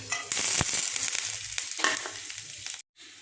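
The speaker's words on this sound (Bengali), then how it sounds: "আমি একটু ভালো করে ভেজে নিচ্ছি।" Whole spices, including panch phoron, cardamom, cinnamon and bay leaf, fry in oil in a frying pan, producing a loud, steady sizzle with crackling pops and stirring scrapes before a sudden brief cutoff; no one talks.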